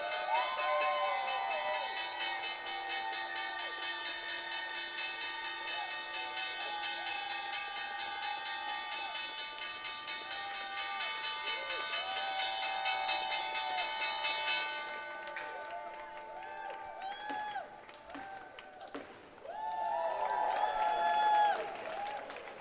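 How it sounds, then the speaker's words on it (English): The closing bell at the New York Stock Exchange on a Thursday rings as a loud, sustained, steady clang for about fifteen seconds, with applause and crowd noise running under it and swelling again near the end. "Time now for the closing bell at the New York Stock Exchange on this Thursday"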